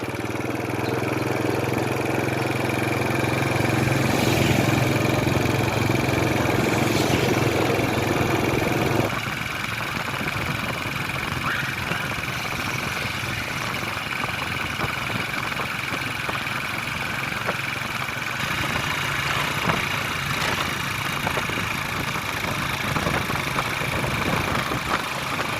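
A motorcycle engine runs steadily and close by for the whole stretch, a continuous hum with a shift in tone partway through, riding over a roughly one-kilometre trip near Pheang Oudomxay.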